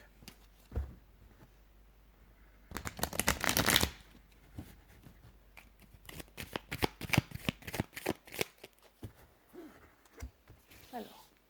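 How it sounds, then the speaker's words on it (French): Tarot cards are shuffled by hand in several bursts of riffling and slapping, close and crisp, the longest flurry lasting about a second, followed by quicker irregular flicks and taps with pauses between. "Je vais commencer par mélanger les cartes."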